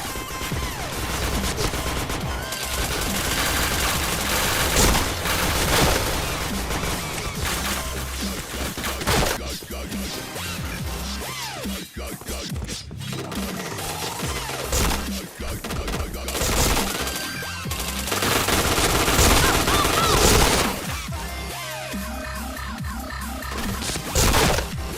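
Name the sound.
gunfire from shooting in a video game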